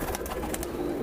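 A pigeon from a racing pigeon loft coos softly, a brief low murmuring call at close range with a faint background hum.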